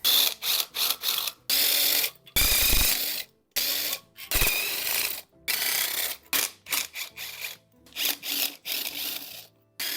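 Ratchet tools click and rattle in quick bursts as the gearbox is removed from a Peugeot 207, with short mechanical ratcheting strokes and pauses between them, close and loud with no talk.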